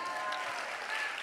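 A brief burst of audience applause at an awards show, steady and moderately faint, a short even wash of clapping with no voices over it.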